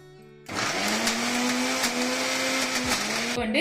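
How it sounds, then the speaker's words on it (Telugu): A mixer grinder blending coriander and red chilli chutney whirs loudly for about three seconds with a steady motor hum, then winds down and stops. "ఒక్కసారి కలిసే విధంగా మిక్సీ పట్టుకుందాం"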